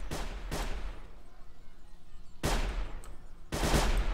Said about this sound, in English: I don't know what they're shooting.